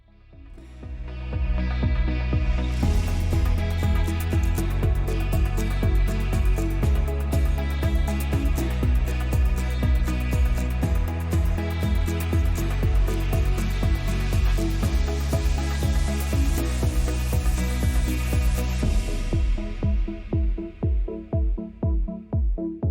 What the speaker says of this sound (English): take your 12mm extension with a 10mm and reach way back there and take that 10mm bolt back there off